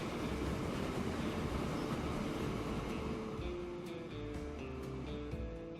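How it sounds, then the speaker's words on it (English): Steam locomotive rumbling along the track in the Transport Fever simulation game, a steady continuous chug and rail clatter heard up close throughout, with no voices. "Brave little steam locomotive."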